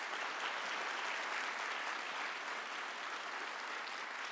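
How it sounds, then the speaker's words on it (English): A TEDx audience applauds a speaker, dense, steady clapping from a large crowd in a hall, loud and sustained throughout. "Give him a round of applause because he'll be backstage."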